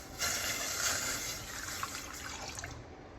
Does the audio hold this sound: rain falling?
no